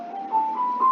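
Smooth sustained tones climb steadily through a major scale played on an instrument, clear and close with no voices over them.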